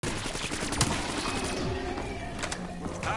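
Rapid bursts of Peacekeeper shotgun fire crackle through a PS4 video game match, dense overlapping shots with a sharp crack near the start, loud and close.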